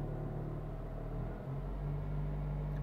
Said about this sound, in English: I'm going to increase it to about 1500 RPMs